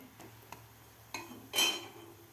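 Clinking and scraping of a spatula as mango dashmi is flipped on a hot pan greased with ghee, a few sharp metallic taps followed by a louder scrape and faint sizzle, close up and with no talking.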